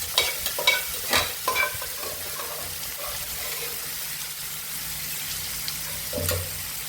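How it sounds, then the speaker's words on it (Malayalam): Taro stalk stir-fry being stirred and mixed in a frying pan, with clustered clattering scrapes of the spoon early on over a continuous close sizzle, then a quieter stretch of frying and a final knock. "നമുക്ക് നന്നായി ഒന്ന് ഇളക്കി മിക്സ് ചെയ്ത് കൊടുക്കട്ടെ"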